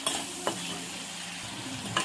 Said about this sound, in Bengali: টমেটোটা পেঁয়াজের সঙ্গে একটুখানি নাড়াচাড়া করে নেবো, যতক্ষণ না কাঁচা গন্ধটা যায়।